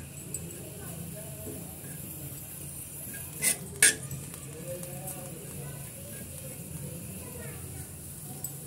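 Desiccated coconut and poppy seeds roasting on a griddle and gently stirred, with soft scraping and a couple of sharp metallic utensil clinks against a quiet background hum.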